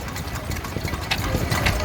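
A small 1923 stationary engine of 1.5 horsepower, rated at 600 RPM, runs at a steam rally in Daresbury, Cheshire, with a steady chuffing beat that stays constant under outdoor background noise.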